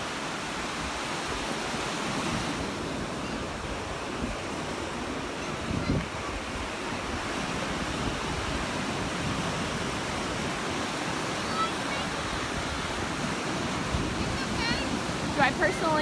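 Ocean waves wash onto the sand at Crystal Beach in Destin, Florida, a steady soft surf roar with wind across the microphone and no clear breaks.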